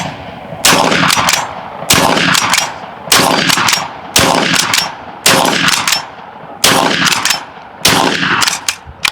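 A supersonic AEA Megalodon .58 caliber air rifle fires a string of loud, sharp reports, about nine shots in a steady rhythm roughly one second apart, each with a brief ringing tail, close and alone.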